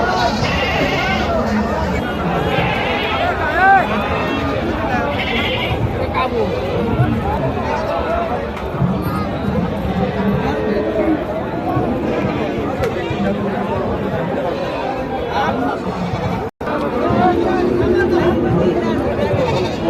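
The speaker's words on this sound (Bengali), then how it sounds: "বিশাল একটা পাঠা" Goats bleat repeatedly over a busy crowd at a rainy goat market in Chatmohar, Pabna, Bangladesh, with people talking nearby and constant chatter throughout.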